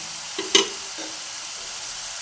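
Millet frying in hot oil while the grains puff and float up, giving a steady close sizzling hiss with a couple of brief pops near the start.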